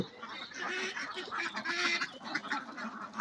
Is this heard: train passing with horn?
no